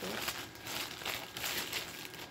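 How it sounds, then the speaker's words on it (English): Plastic packaging from an Amazon delivery of crested gecko supplies pulled open by hand during an unboxing, a close, continuous crinkling and rustling that lasts about two seconds. "you can literally just pull it"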